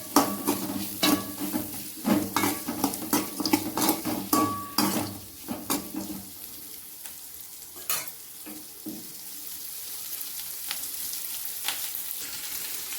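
Black pepper, cumin and fenugreek seeds are roasted in a pan for a pirandai chutney, stirred briskly with loud scraping and rattling for about six seconds before settling into a quieter, steady sizzle with occasional clinks.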